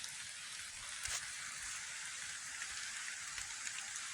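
Rain falling steadily on a cold, dark winter day, a dense even hiss of drops on surfaces with occasional louder spatters, fairly quiet and heard alone.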